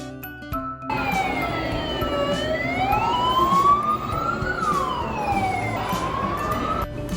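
An ambulance siren wails loudly nearby, its pitch sweeping slowly up and down over steady road traffic noise.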